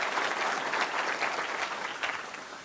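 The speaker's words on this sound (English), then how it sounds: "Clap for yourselves." An audience claps at a speech by Maryland Governor Larry Hogan, a dense steady wash of applause from many hands, fairly close and sustained throughout, with no speech over it.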